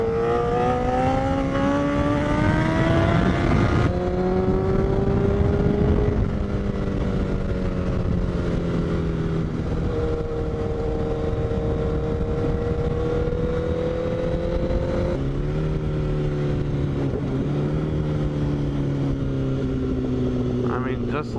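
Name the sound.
motorcycle with straight-piped Toce exhaust running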